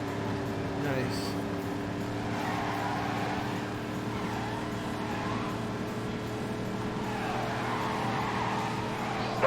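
Car drifting and skidding in The Grand Tour video game: a steady engine drone holds throughout, with rough tyre scrubbing swelling and fading, while a voice talks over it.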